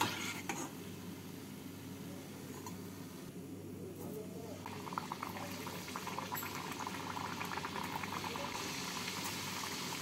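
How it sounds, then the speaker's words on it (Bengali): Nimki, crisp flaky Indian flour snacks, deep-frying in hot oil make a continuous bubbling, fizzing sound at moderate level, briefly quieter midway before the busy seething picks back up. "এইভাবে বাকি নিমকিগুলোকেও ভেজে নেব।"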